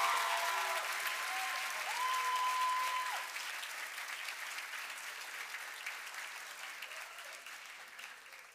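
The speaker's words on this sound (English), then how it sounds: "One more time, round of applause for Noor Kasim, our class historian of 2022." Audience applause fills a graduation ceremony hall, a steady wash of many hands clapping that swells for a few seconds, then eases slightly while continuing, with faint tonal sounds briefly audible early on.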